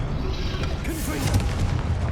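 A booming fiery blast from the Confringo spell in Hogwarts Legacy gameplay, a sustained rumbling burst with crackling layers and faint game sounds beneath.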